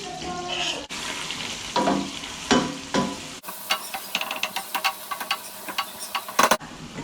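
Onion cooking in oil and butter for a fish risotto, a gentle sizzle broken by irregular spoon clicks and scrapes against the pan, growing crisper and brighter partway through.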